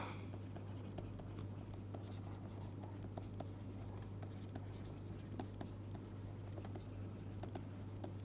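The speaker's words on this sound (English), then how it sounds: "So, I am going to write down this first." Pen scratching out equations by hand during a physics lecture on heat capacity, a quiet continuous scritch with small taps and strokes, no voice over it.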